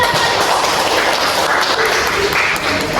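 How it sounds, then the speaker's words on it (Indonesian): A class of fifth-grade elementary pupils applauds together in a classroom, a dense, steady wash of many hands clapping at once that holds for about three seconds without a break. "Tepuk tangan dulu."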